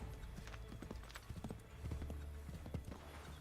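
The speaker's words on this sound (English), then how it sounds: "The horses are just too slow in this." A horse gallops in Assassin's Creed 3, its hooves sounding as a quick, close run of clip-clops over a busy game soundscape.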